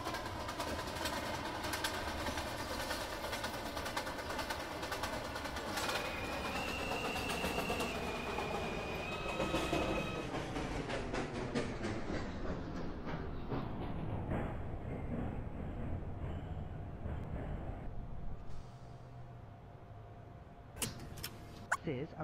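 A Brooklyn College Flatbush Avenue bound 2 express subway train runs with a steady rumble and rail noise, while an automated announcement voice speaks over it. The noise eases and quiets toward the end.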